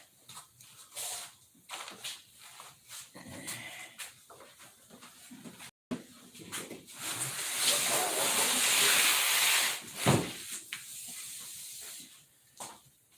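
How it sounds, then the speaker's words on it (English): Airbrush spraying white paint, a steady breathy hiss of air that swells for several seconds, with intermittent clicks and handling noise around it. "First thing to do is airbrush some white."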